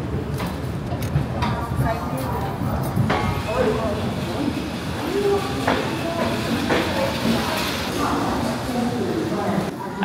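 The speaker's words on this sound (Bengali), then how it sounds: "আমাদের ট্রেন 12370 কুম্ভ এক্সপ্রেস দেরাদুন থেকে এসে পৌঁছালো হাওড়া স্টেশনে" The 12370 Kumbha Express from Dehradun rolls into Howrah station before dawn, its wheels clattering and brakes hissing in a dense, steady rumble, with people talking nearby over the noise.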